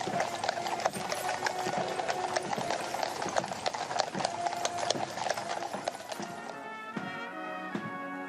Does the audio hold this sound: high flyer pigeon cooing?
no